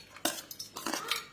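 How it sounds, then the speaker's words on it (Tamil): Chopped onion tipped from a container into a bowl while making an egg omelette, giving a quick run of clattering, scraping knocks against the bowl that are close and fairly loud, with no talk. "வெங்காயத்தை பேர் அரிஞ்சு வச்சுருக்கிறோம். இதை இதில் கொட்டிக்கிறோம்."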